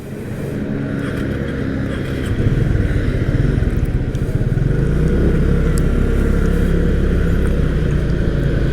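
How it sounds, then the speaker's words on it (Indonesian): Suzuki Hayate 125 carbureted 125cc automatic scooter engine idling steadily close by, a continuous loud low rumble that rises slightly after a couple of seconds and holds. "buatku ini mesinnya sehat banget"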